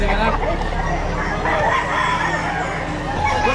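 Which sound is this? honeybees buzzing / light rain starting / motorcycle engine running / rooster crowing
rooster crowing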